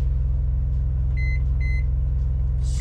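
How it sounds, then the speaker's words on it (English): A microwave oven heating butter hums steadily with a low droning rumble, and two short electronic beeps sound partway through. "Start the microwave."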